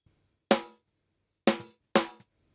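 Three layered snare drum hits built from triggered samples, sharp and punchy with short bright decays, spaced unevenly and heard alone against silence.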